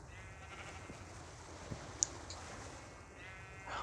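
Sheep bleat in a video game over steady background game sound, with brief bleats standing out faintly among the ambience.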